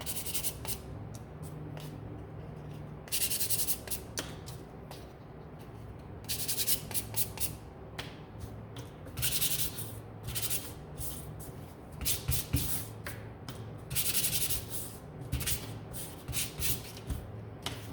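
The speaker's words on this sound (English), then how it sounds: "let's give these a quick sand" Wooden door hangers being sanded by hand: repeated bursts of gritty rasping strokes, close and fairly loud, with short pauses between passes.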